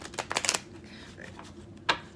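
Tarot cards being shuffled by hand, a quick flurry of close, crisp riffling snaps followed by a pause and one more sharp card flick, with no talking.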